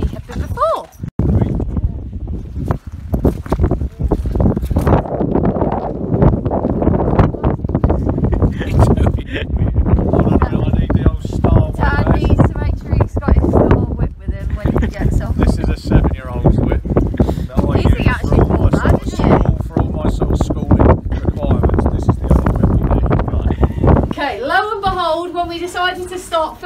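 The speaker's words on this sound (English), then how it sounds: "it's gone really windy and it looks like it's gonna rain" Gusty beach wind buffets the microphone in a steady roar across the whole stretch, with horse hooves clopping underneath and a voice talking near the end.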